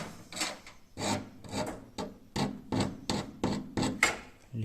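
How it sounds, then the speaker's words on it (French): A metal file rasping a roller shutter crank handle, a steady series of about ten rhythmic back-and-forth strokes, close and clear with no talking. "Je vais passer un petit coup de lime."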